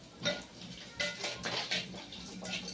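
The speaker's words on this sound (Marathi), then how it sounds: "आता मी टाकणार आहे त्याच्यामध्ये ही डाळ शिजवलेली." Cooked dal from a pressure cooker is poured and scraped into a pan, giving soft wet slops and faint metallic clinks of a ladle against the vessels, quiet and close, in a few separate bursts.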